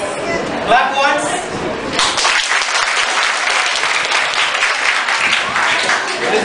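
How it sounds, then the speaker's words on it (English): A room of students at DAV School in Vashi, Mumbai bursts into clapping during a counselling session. A voice speaks briefly first, then loud, dense applause fills the rest of the clip without a break. "Clap once."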